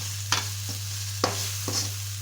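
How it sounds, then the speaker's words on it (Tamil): Spoon stirring spice masala in a pan for Chettinad chicken curry, a few scraping strokes spaced apart over a steady low hum, close and fairly quiet with no talking. "நல்லா எல்லாத்தோடையும் சேர்கிற மாதிரி நல்லா கிளறி விட்டுக்கணுங்க."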